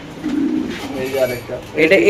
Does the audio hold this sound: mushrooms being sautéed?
no